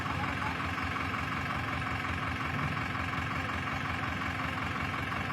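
Heavy tractor and loader engines idle steadily nearby, a constant low drone without changes in pitch or pauses.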